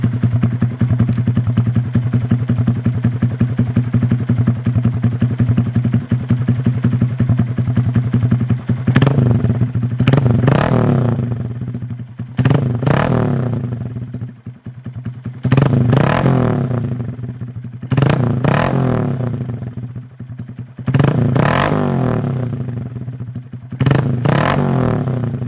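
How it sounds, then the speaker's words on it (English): A 2022 Honda Grom motorcycle with an Amazon aftermarket exhaust idles loudly and steadily, then gets revved in about six sharp bursts, each rising and falling back to idle, close up. "All right, let me let the bike warm up, and then we'll give it some revs."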